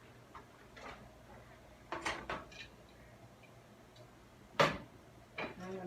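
A bowl is taken out in a home kitchen: a few sharp clinks and knocks of dishware, one louder clatter near the end, set against quiet room background.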